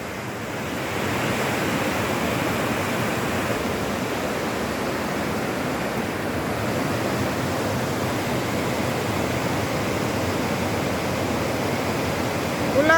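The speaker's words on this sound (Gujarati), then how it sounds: "કેટલી અવાજ કરે નદી." The Gandaki river roaring past, a loud, broad, constant rushing wash of water that fills the scene and holds steady throughout, with no talking.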